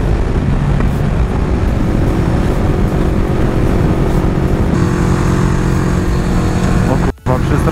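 Yamaha R1 and Honda CB500 motorcycles with full open exhaust ride on a bumpy, twisting road in Germany, their engine roar steady and close throughout, broken by a brief cut near the end.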